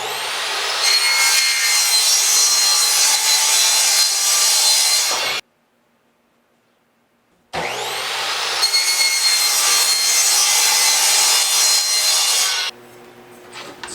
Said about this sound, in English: Take the circular saw, cut it off